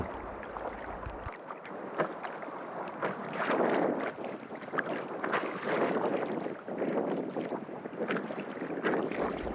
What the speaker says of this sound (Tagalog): Napakagaan niya sagwanan o paddlean.